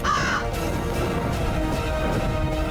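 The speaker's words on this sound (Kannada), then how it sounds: "ಇಷ್ಟು ದೊಡ್ಡದಾದ ಕಾಗೆ" A loud crow caws at the start, followed by a busy outdoor background of other birds and ambient noise.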